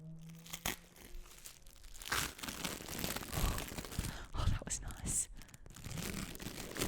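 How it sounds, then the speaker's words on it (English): Paper packet of dice being unwrapped up close, quiet crinkling and tearing rustles in irregular bursts, with soft breathy voice sounds mixed in. "That was a good 20-second segment of just unwrapping a paper."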